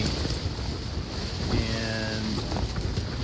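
Steady wind and rain buffet a tent on a rainy, windy brown bear hunt on the Alaska Peninsula, a constant broadband rush with gusting noise and faint low tones, no voices.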